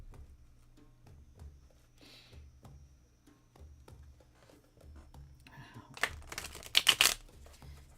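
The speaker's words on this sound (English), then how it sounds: "cards that don't like to shuffle, but I have to" Tarot cards are shuffled in a brief, close, crisp riffling burst near the end, following a stretch of soft, low talking and quiet handling sounds.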